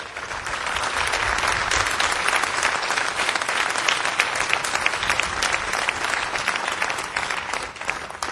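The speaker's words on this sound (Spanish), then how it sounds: "Dele un fuerte aplauso a Jesucristo." A church congregation gives a long, loud round of applause, steady dense clapping that fills the room and carries on without a break, with no talking over it.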